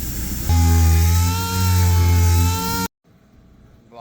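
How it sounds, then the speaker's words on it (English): Close, loud steady whine of a dual action sander working on a Toyota Prius body panel to take out deep scratches, its pitch rising once it bites, then cutting off abruptly near the end, leaving quiet room noise. "I'm going to sand it with the DA just to get out all the deep scratches."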